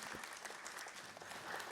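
A studio audience at an Islamic talk show claps in steady, dense applause, continuous and moderately close for the whole short stretch.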